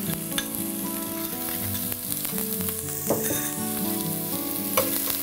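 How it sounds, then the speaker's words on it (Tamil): Chopped onions fry in a hot pan, giving a dense, continuous sizzle that stays steady and close, with occasional stirring scrapes and quiet background music. "இது நல்லா வந்து ஒரு மாதிரி ப்ரௌனிஷாக ஆனியன் நல்லா ப்ரௌன் கலரில் ஃப்ரை ஆகும் இல்லையா?"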